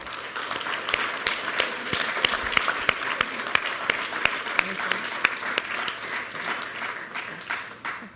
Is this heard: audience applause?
yes